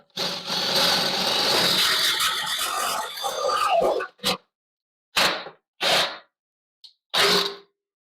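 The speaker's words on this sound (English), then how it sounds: "I got the old tried and true Harbor Freight, not typical, the upgraded spiral cut step bit" A Harbor Freight spiral-cut step bit drills through steel for a rat rod go-kart steering wheel. A loud grinding whine runs for about four seconds, then stops, and several short bursts of the drill follow.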